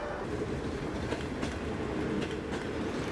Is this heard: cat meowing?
no